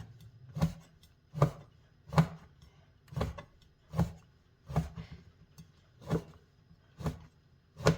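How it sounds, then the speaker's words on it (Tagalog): Knife finely slicing food on a cutting board for a mala cream shrimp dimsum filling, ten evenly spaced sharp chops in a steady slow rhythm, close and clear with no talking. "Tapos, hiwain lang natin siya ng pino."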